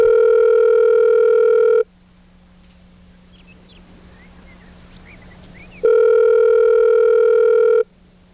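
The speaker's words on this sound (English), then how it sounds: "Calling Ginsu back." A telephone dial tone hums loudly and steadily, breaks off into quiet line noise while a call is placed, then returns just as loud and cuts out again; no one speaks.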